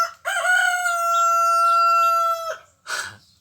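A rooster crows once, close and loud, a long sustained cock-a-doodle-doo call followed by a short clucking burst.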